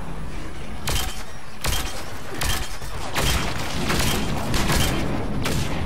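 Heavy pistol shots from the Mass Effect 3 video game ring out in a steady run of loud, sharp cracks roughly every second, each with a short booming tail.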